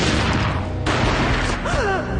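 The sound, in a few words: gunshot in Max Payne video game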